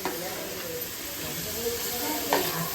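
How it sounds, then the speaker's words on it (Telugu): Fish curry being stirred in a large kadai, a soft continuous scraping and sizzle with steady frying hiss throughout, one brief louder scrape near the end, no talking. "ఇటువంటి చేపల పులుసు ఎంత బాగా కలుపుతుందో చూడండి"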